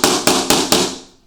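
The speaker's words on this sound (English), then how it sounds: "use that as a backing against your hammer, so you can actually kind of tap this in place" Four sharp taps of a hammer striking a scrap piece of vinyl flooring held as a backing block against a vinyl plank in a basement over concrete, evenly spaced and close, the last one ringing out into quiet.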